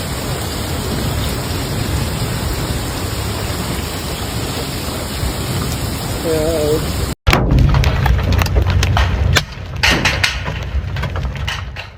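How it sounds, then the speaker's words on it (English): Ping-pong-sized and larger hail pounds the ground during a violent storm in Collinsville, Oklahoma, a loud, dense roar of pelting that breaks off abruptly midway, then resumes just as hard, with a voice briefly heard amid it. "Ping-pong-sized hail, and larger, pounded the ground so intensely"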